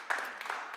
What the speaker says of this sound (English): We can clap for that.